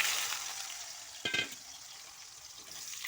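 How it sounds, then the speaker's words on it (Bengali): Boiled potato pieces, cooked with salt and turmeric, fry in oil with a steady faint hiss and one brief louder stir or crackle partway through. "আলুটাকে আমি লাল লাল করে ভেজে নিচ্ছি"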